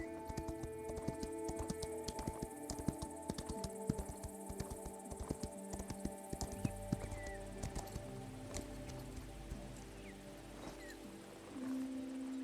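Horse hooves clip-clopping at a steady walking rhythm with an occasional whinny in the Equinox: Homecoming video game, layered over game music and ambient tones, with no talk.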